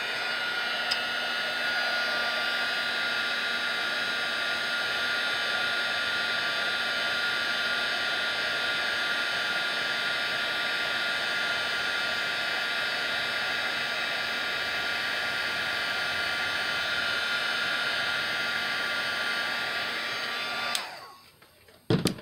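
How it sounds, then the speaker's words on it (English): A heat tool melting embossing powder on a Christmas card gives a steady, loud, close blowing whir that runs unbroken for about twenty seconds before clicking off. "I'm going to use my heat tool to"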